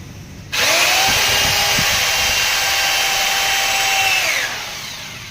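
Power drill boring a hole in a strip, with a high steady whine that starts suddenly, holds for about four seconds, then spins down. It is close and loud, with no talking.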